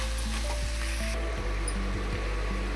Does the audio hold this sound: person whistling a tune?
no